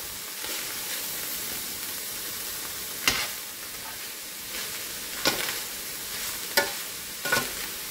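Eight ounces of mushrooms sautéing with browned beef in a pan for a homemade spaghetti sauce, a steady soft sizzle. It is punctuated by four sharp utensil scrapes or taps against the pan, with no talking.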